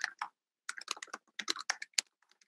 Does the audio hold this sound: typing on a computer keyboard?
yes